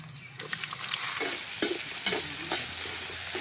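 Mustard seeds, urad dal, curry leaves, peanuts, shallots and tomato fry in hot oil, giving a steady close sizzle with scattered pops and crackles and a few stirring scrapes.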